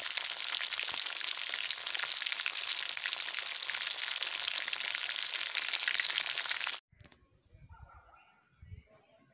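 Shami kebabs frying in a pan give a dense, loud, continuous sizzle that cuts off abruptly near the end, leaving faint scattered handling noises.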